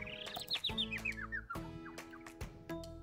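Birds chirp and tweet in quick, bright repeated calls, including a descending run of notes, with scattered louder chirps and some clucking-like sounds nearby in an outdoor setting.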